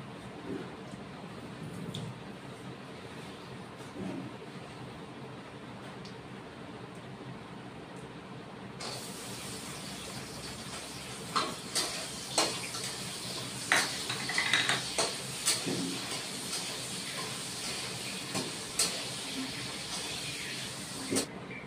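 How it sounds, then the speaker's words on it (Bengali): Lentil nuggets (dal bori) frying in a little oil in a pan after bitter gourd and potato, a steady sizzling hiss that swells louder midway, with scattered utensil clinks and scrapes. "আবার ডালের বড়িটা ভেজে নেব।"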